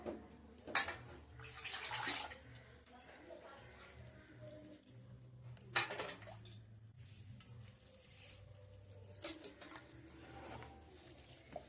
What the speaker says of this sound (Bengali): তো এবার আমি জল দিয়ে ভালো করে একটু ধুয়ে নেব।